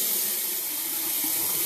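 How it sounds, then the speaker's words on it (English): Steady rush of water pouring from a bathroom tap while a face is rinsed, continuous, close and even, no voices. "I'm just gonna rinse it off really fast and tell you how I feel."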